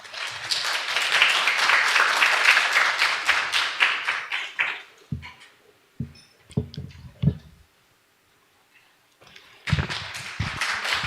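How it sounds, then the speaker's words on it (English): A symposium audience at an international cancer research meeting bursts into dense, sustained clapping for about five seconds, which thins to scattered individual claps and then swells again briefly near the end. "Please welcome him with a round of applause."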